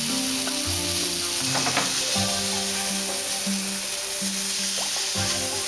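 Pork loin sears in a hot pan with cream added, giving a steady, close sizzle and frying crackle throughout, with faint stirring noises on top.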